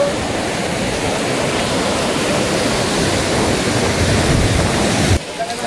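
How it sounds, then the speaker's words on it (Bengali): Ocean surf crashing at the river mouth at Digha, a steady, loud broadband roar of breaking waves close by, with a sudden drop in level near the end. "এখানে ঢেউগুলো এসে আছড়ে পড়ছে।"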